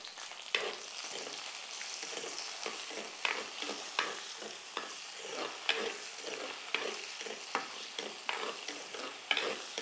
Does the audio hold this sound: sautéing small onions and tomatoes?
yes